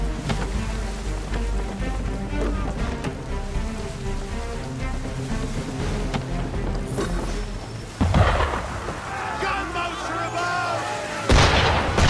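Ship cannons firing in the video game Assassin's Creed 3, heavy booming blasts over rain and ambient noise, loud and close, with a few sharp impacts near the end.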